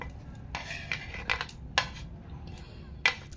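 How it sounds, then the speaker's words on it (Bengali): A spoon works green chilli, garlic and ginger paste together in a bowl, giving a handful of sharp clinks and scrapes against the sides, spaced irregularly and fairly quiet, with no voices. "একসঙ্গে সব মিশিয়ে নেব।"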